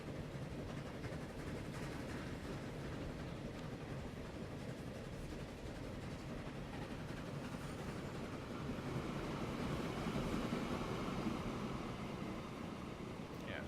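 Trains rolling along railway tracks in the video game Transport Fever, a continuous low rumbling drone that swells slightly in the second half, with no voices.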